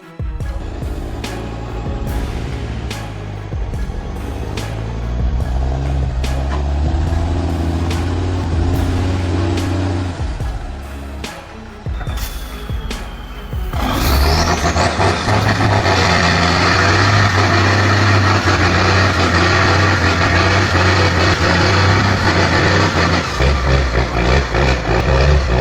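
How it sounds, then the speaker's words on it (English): Off-road trucks in mud idle, then roar louder as an engine revs hard partway through, a heavy, close, sustained mechanical drone with rising pitch and no audible talk. "The roar of the engines mixed with the sound of the mud, creating a dramatic and powerful scene."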